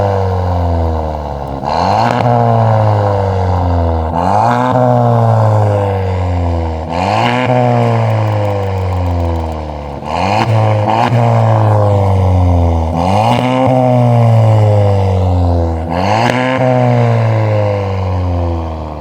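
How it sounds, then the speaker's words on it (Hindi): A modified Mahindra Scorpio N with a loud aftermarket exhaust is revved again and again. Each sharp rise in pitch falls back to a deep, rumbling idle, loud and close, over about twenty seconds. "ये एग्जॉस्ट के अंदर कैसी आवाज़ आ रही है।"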